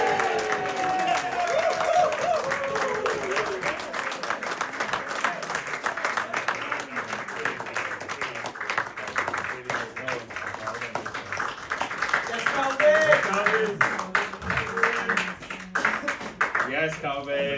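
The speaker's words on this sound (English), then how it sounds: "give him an extra big round of applause" Audience applause at a cricket club awards ceremony, steady dense clapping from a crowd with some cheering, sustained for the whole stretch with a voice talking over it.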